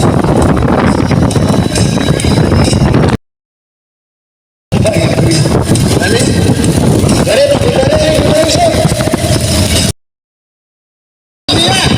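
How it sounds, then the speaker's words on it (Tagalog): Loud gusting wind buffets the microphone in roaring bursts at a barangay fiesta celebration, broken by abrupt silent gaps, with a faint engine-like hum underneath. "Lakas hangin."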